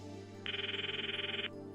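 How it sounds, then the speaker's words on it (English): A phone ringtone in the visual novel game Steins;Gate plays as one electronic trill of about a second, a rapidly pulsing tone over a low steady background hum. "The ringtone echoes in my ears."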